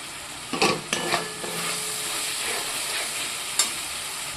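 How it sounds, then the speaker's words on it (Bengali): A spatula stirs paneer masala as it fries in a pan with yogurt and ground spices. Soft scraping strokes come near the start and again later, over a steady sizzle, and no one speaks. "মশলাটা প্রায় কষানো হয়ে গেছে।"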